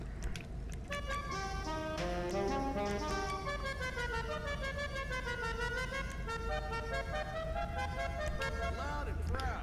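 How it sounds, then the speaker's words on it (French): A car horn in GTA 5 Online sounds a long, loud, varying musical honk for about nine seconds while someone speaks over it. "Klaxon"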